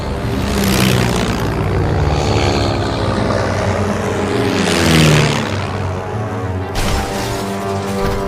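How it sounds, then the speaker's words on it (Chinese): A propeller airplane drones steadily overhead, loud and continuous, swelling briefly as it passes closer before settling back to a constant hum, with no voices. "这不就是这架飞机吗？"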